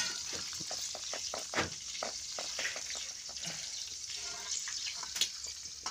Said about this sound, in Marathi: मसाला जळतो काय काय, त्याला ते व्यवस्थित परतून घ्यायचं आहे